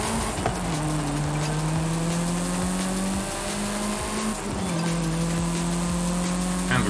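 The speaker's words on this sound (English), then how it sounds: "particularly like the E-type exhaust in this game" A Jaguar E-type in the Forza Horizon 5 racing game, its exhaust rising in pitch through the revs with repeated gear changes dropping the note, loud and steady with no talk.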